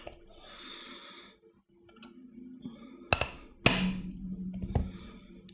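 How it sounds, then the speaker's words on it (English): A hammer taps on the frame part of a Cybergun/WE Desert Eagle .50AE gas blowback airsoft pistol, two sharp metallic clinks with ringing tails, amid quieter handling rattles and breathing. "we're gonna have to get a hammer"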